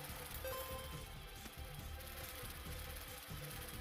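Flies buzzing in the video game The Binding of Isaac: Repentance, a faint, continuous insect drone layered over quiet game sounds and background music.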